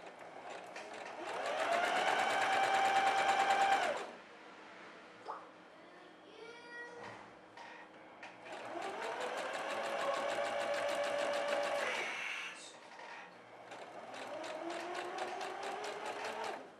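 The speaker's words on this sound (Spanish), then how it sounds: "realizamos una costura recta o zigzag, también en la sisa para fijarla a la blonda" A sewing machine runs a straight or zigzag seam on a girl's dress, fixing the armhole to lace trim, in three steady whirring bursts of several seconds each with brief quiet gaps between.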